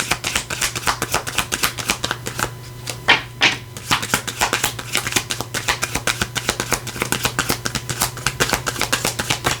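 Tarot cards being shuffled by hand, a long run of quick, close riffling and tapping bursts in an irregular rhythm, with no talking.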